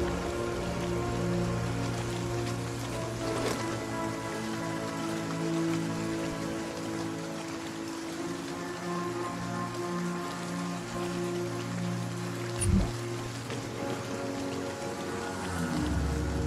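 Rain falling in the video game Sniper: Ghost Warrior makes a constant hiss and patter over a low drone, with one brief thump near the end and no voices.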